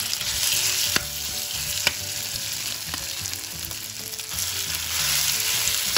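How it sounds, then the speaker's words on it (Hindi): Potatoes for a samosa stuffing frying in a pan with green chillies, a steady broadband sizzle with scraping stirs at irregular intervals, close and fairly loud, with no talking. "अब इसमें हरी मिर्च डालेंगे और भूनेंगे। अब हम इसमें आलू डालेंगे।"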